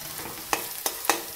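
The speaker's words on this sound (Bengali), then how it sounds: "এটা কিন্তু খালি নাড়া দিতে থাকতে হবে, না হলে লেগে যায়, যেহেতু একদম মিহি করে কাটা।" Finely shredded potatoes fry in a pan with a continuous sizzle, broken by three or four sharp scraping strokes of a spatula stirring them at a steady pace, close by.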